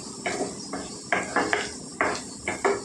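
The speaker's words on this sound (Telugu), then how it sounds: "మూత పెట్టి మగ్గించుకుందామండి" Metal clatter and clinks as a lid is set on a pan of carrot and potato frying in oil, several short knocks in quick succession, close and clear with no talk.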